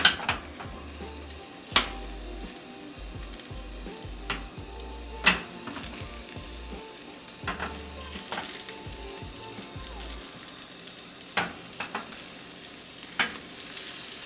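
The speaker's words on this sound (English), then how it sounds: "Move the eggs back and forth so that there's no liquid on top." Eggs pushed back and forth in a frying pan for a breakfast sandwich, with a soft steady sizzle under repeated scrapes and clinks of a utensil against the pan.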